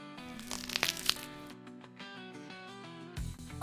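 A few loud, crisp crunches of biting into a fried cheese stick come close up, followed by quieter chewing.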